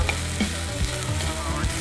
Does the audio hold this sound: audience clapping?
no